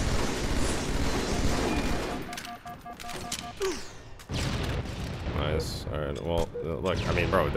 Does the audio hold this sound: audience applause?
no